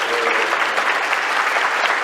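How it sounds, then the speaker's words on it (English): An audience at a lecture event applauds, a dense, loud wash of clapping that holds steady throughout with no distinct voices. "A round of applause, please, for the remarkable."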